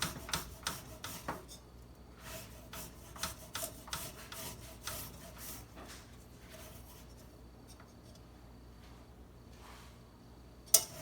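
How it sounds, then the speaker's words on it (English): Garlic cloves rubbed across a microplane grater for lemon pepper wing sauce, giving quiet rasping scrapes in quick bursts during the first half, then softer sparse scratches and a sharp knock near the end. "I just grate it over a microplane."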